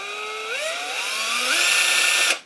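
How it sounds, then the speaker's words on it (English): A variable speed cordless screwdriver drill whines steadily as the trigger is squeezed harder, its pitch climbing in steps before the motor cuts off abruptly at the end; loud and close, no voices. "This is a variable speed screwdriver drill."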